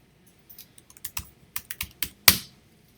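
A username is typed on a computer keyboard: a quick close run of about a dozen key clicks, finishing with one firmer keystroke.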